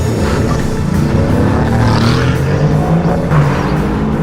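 A car engine revs and accelerates loudly up close, its pitch climbing through gears in a sustained, throaty roar.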